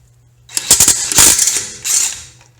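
A DeWalt DCF894 cordless 20V impact wrench set to high mode spins off a car's lug nut, a sharp burst of rapid metallic hammering and rattling after a brief pause, then a second shorter burst, close and loud with no talk.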